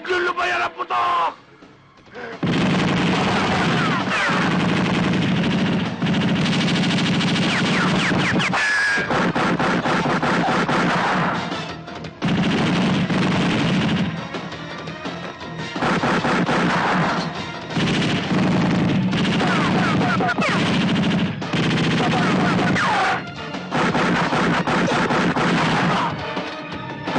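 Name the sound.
gunfire in an action movie shootout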